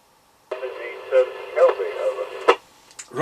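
Transmission from a Maxcom 6E UK FM CB radio (CB27/81) in a vehicle, opening with a squelch burst into a voice speaking through a narrow, slightly crackly channel.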